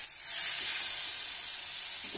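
Chili powder with mustard and cumin paste sautéing in hot oil for a Bengali cauliflower and fish curry, a steady close sizzle that swells after a brief start and holds without talk.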